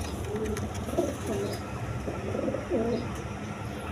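Pigeons coo in several soft, rolling low phrases at close range over a constant ambient hum.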